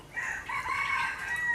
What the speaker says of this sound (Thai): จำไว้ว่าถ้าเสียงแบบนี้นะเป็นเสียงไก่นะ